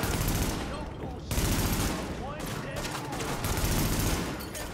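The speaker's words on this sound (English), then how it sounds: "I just angrily shot a bottle." Dense gunfire from The Division video game, an Xbox One third-person shooter, with sustained loud bursts and a short break before the shooting resumes, and no speech over it.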